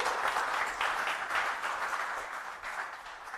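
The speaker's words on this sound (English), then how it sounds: "Come on, round of applause" An audience at a live product launch event gives a round of applause, steady dense clapping from many hands heard at moderate distance throughout, with no speech over it.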